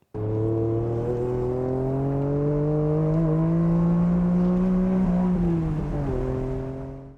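A Honda NSX engine revs steadily upward in a loud, continuous drone, then briefly stumbles with a couple of quick hiccups, an occasional early rev limit near 7,000 rpm, before settling again near the end.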